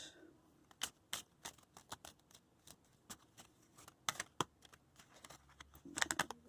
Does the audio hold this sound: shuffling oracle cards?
yes